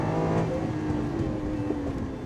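An all-wheel-drive Lamborghini Aventador launches hard off the line, its engine roaring loudly with rising, wavering pitch that swells as it pulls away.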